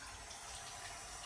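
Water runs from a kitchen tap in a short, steady, soft rush with no voices.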